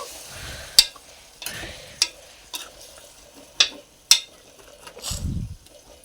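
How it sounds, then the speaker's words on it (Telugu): Spoon stirring brinjal and chana dal curry in a pan, a series of separate scraping strokes with one longer wet stir near the end, close and alone. "ఇప్పుడు ఒకసారి బాగా కలుపుకొని దీంట్లో కొన్ని వాటర్ పోసుకున్నామండి"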